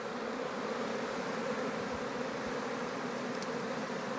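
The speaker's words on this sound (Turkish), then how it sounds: "Şimdi bütün arı kovana doğru ilerleyecek." Honeybees buzzing as they move into the hive at an apiary, a continuous dense drone of many bees close by, steady and even in loudness with no voices.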